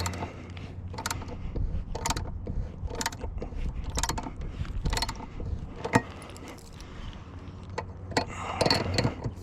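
A bolt on a metal Starlink J-mount being tightened with a ratchet tool, a series of close, sharp clicking bursts roughly every second, with scraping and mechanical rattling between them and no speech.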